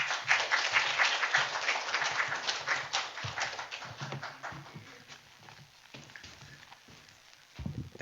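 A church congregation at a Sunday worship service claps warmly for a visiting missionary speaker, dense applause that starts strong and gradually thins out over several seconds, with a brief thump near the end.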